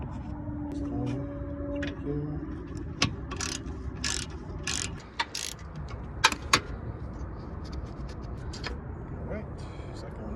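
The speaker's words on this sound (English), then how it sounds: "So I got the 10mm socket. Just going to remove the two right now." A 10mm socket ratchet works bolts loose on a 2012-2015 Toyota Prius front bumper, quick bursts of clicking and metallic clacks with a couple of sharp knocks, while someone talks nearby.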